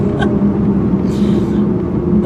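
A 2015 Chrysler 200 accelerating, heard from inside the car as a steady, loud engine hum with road rumble throughout, with no talking over it.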